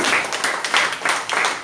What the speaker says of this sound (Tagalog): Isang palakpak sa Diyos.